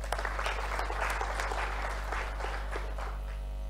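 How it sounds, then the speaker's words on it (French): Applause from an audience at a medical association congress in Kinshasa, a steady soft wash of clapping held at a low level over a constant hum. "Veuillez acclamer."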